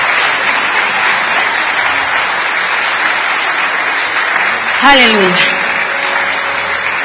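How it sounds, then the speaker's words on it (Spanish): A church congregation applauds steadily and loudly, with a voice rising briefly out of the clapping to exclaim over it. "Dale un fuerte aplauso a Dios si quieres hacerlo"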